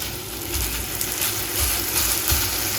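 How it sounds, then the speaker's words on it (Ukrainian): Lavash filled with minced meat fries in butter in a frying pan, giving a steady, loud, close sizzle with crackling pops throughout and no voices. "І тепер викладаю лаваш фаршем вниз"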